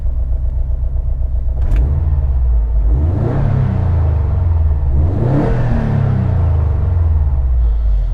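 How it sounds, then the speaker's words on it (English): A turbocharged four-cylinder boxer engine in a 2013 Subaru WRX STI with unequal-length headers and a full Cobb turbo-back exhaust revs twice over a steady rumbling idle, close and loud, with the pitch sweeping up and dropping back each time. "although it is a 4-cylinder engine, turbocharged, it sounds incredibly aggressive due to the unequal length headers that it has"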